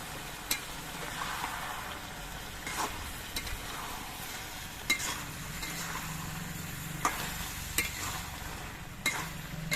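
Prawns and taro stolons coated in black cumin paste are stirred in a frying pan, giving a soft continuous sizzle. Intermittent spatula scrapes and clinks break through close by, and no voices are heard.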